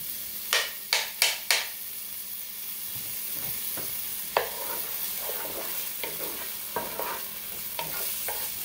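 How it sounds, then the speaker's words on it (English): Green onions and minced garlic sauté in a pan for shrimp fried rice, opening with four quick metallic spatula knocks, then a steady sizzle broken by scattered stirring scrapes and taps. "I'm going to let this saute like for 2 minutes"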